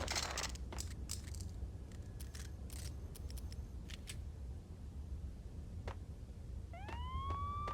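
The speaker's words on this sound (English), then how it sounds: "I'm allergic to sirens!" A police siren in the Max Payne video game begins its rising wail near the end, faint under a constant low rumble and scattered sharp clicks, with no voices.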